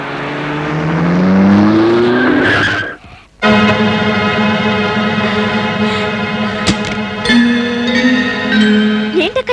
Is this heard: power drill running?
no